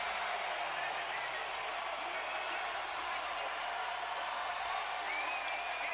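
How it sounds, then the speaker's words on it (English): A large arena crowd at the national wrestling championships cheers and roars in a continuous, steady wash of noise, heard from a distance with faint clapping mixed in and no clear break. "This whole arena is cheering for Oklahoma State over Penn State"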